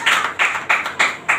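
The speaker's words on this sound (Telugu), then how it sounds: "గట్టిగా చప్పట్లు కొట్టండి" A church congregation claps loudly in unison during a prayer sermon, five sharp, even claps in a steady rhythm with no talking.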